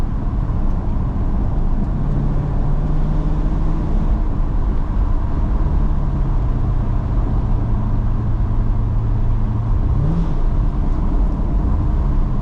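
A Chevrolet C7 Corvette cruising on the road at early morning, with a loud steady engine drone and tire and road noise from inside the cabin, with a slight rise in engine pitch near the end.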